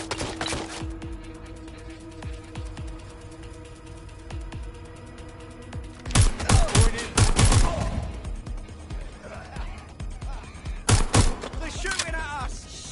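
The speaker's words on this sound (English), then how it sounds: "They're shooting at us!" Bursts of automatic gunfire in Watch Dogs Legion, a sustained close volley of rapid shots followed later by a shorter burst, with game voices shouting over the shooting.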